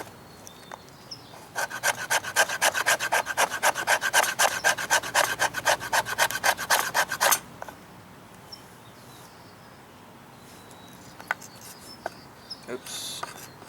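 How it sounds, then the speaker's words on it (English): A BHK Woodsman Pro knife carves fatwood into shavings outdoors, giving about six seconds of quick, rhythmic rasping scrapes at close range, then near-quiet with a few faint clicks. "So we got a lot of fat wood shavings we're gonna get going here."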